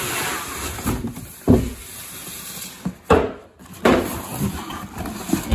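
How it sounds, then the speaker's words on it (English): An MSD Pro Billet distributor for a Ford FE is slid out of its cardboard box, giving scraping, rubbing slides and a couple of sharp knocks and thumps, close up. "I'm gonna slide this out of the box."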